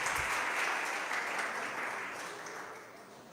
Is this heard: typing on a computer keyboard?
no